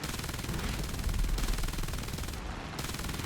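Rifle-caliber machine guns on a World War II Japanese fighter in War Thunder fire in rapid, sustained bursts, loud and close, with a brief pause before the rattling stream resumes.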